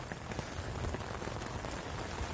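Steady rain pattering on a tent and ground at a campsite along the John Muir Trail during a thunderstorm, dense and close with scattered louder drop hits and no talking.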